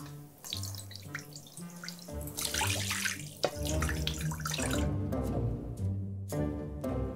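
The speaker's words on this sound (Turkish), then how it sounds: "Şimdi bunun içerisine suyu dolduruyorum önce sevgili dostlar" Water pours into a glass jar, a close, bubbling, gurgling stream whose pitch shifts as the vessel fills, with short pauses and restarts between pours.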